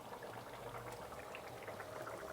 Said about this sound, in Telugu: మన కూర కూడా బాగా ఉడుకుతూ ఉంది